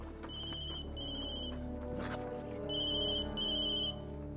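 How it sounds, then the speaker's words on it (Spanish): A telephone rings in two double bursts of electronic trilling tones with a pause between, heard indoors over a low steady background hum, with no talking. "¿Eso? Es un teléfono."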